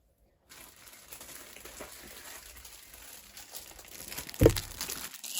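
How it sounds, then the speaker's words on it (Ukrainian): Soft rustling and crinkling, like plastic or paper being handled close by during embroidery project preparation, continuing steadily with a brief louder crackle near the end. "Я вибачаюсь це шурхіт"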